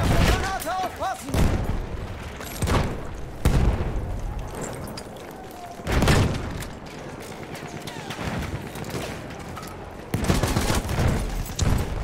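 Battle in the video game Battlefield 1, where a St Chamond tank fights amid gunfire and grenades. Loud booming explosions and bursts of rapid gunfire repeat through the clip, with voices shouting over the din.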